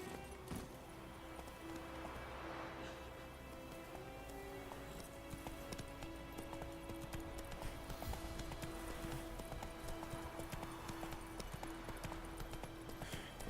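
Hooves of the horse Roach clip-clop in a steady galloping rhythm in The Witcher III, a continuous drumming gait under a game music backdrop for the whole stretch.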